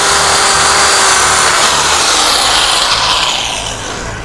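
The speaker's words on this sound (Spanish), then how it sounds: "Luego con este taladro se hace lo que es el proceso." A power drill bores into a calabash gourd (jícaro) being hollowed for maracas, a loud, close, continuous whirring grind with gritty rasping that eases off near the end, no voices.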